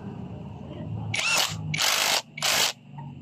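A power tool tightens the camshaft sprocket bolt on a Honda RS 125 fi motorcycle engine, three short close whirring bursts in quick succession with brief gaps, over faint background noise and no talk.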